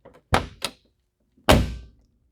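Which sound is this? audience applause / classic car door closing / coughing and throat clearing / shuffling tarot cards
classic car door closing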